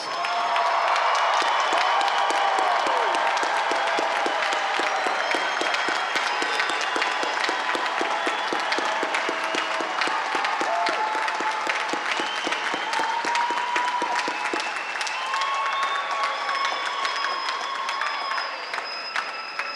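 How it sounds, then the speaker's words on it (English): A large crowd applauds loudly and steadily at a 2021 LSU graduate-student graduation ceremony, with scattered cheers and whoops rising over the dense clapping throughout. "This moment requires a much louder round of applause."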